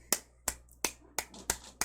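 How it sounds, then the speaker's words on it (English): Hands clap six times at an even, unhurried rhythm, sharp dry claps close and alone over quiet background. "I'm clapping my hands."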